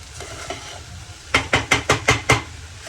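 Okra (bhindi) frying in hot oil gives a low background sizzle with a quick run of six sharp stirring scrapes near the end, close and alone.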